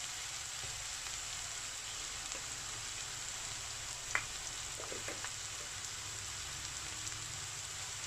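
Onions sautéing in a pan for a prawns roast, a steady soft sizzle throughout with a few faint clinks and stirs near the middle.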